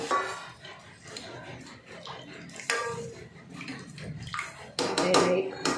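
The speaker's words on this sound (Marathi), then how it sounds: "गरम केलेलं थोडंसं पाणी घालून घेते" Hot water splashes into a pan of spinach and chana dal in short bursts, with clinks and knocks of cookware around it.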